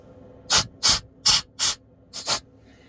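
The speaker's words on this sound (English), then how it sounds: "if you have an air duster, just use it and blow any dust which is on the lenses" An air duster blows dust off the camera lenses of a Samsung S23 Ultra phone during a back glass repair, giving six short, close hissing bursts in a rapid, uneven rhythm with no talking.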